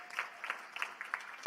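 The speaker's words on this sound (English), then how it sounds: "Give this guy a huge round of applause" Applause at a political committee meeting in Minneapolis, faint and distant, a light patter of scattered hand claps in uneven bursts across the room.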